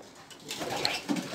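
Decorative pigeons coo briefly and nearby, a soft short call over a faint background murmur.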